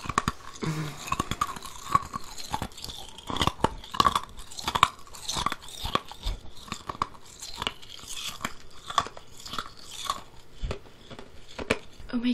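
Loud, close crunching and cracking of hard rock candy being chewed, irregular bites and grinding repeating throughout, with no speech.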